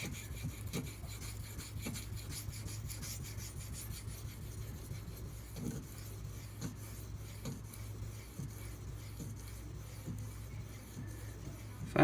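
A Spyderco Native 5 knife with a Maxamet steel blade stroked across an 800-grit sharpening stone, repeated soft rasping strokes in an even rhythm over a low background hum.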